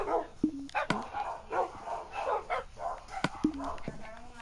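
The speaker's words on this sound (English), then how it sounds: "The dogs, be quiet!" Dogs in a Minecraft survival game barking: several short, sharp barks and yips scattered at uneven intervals, fairly near, mixed with a person talking throughout.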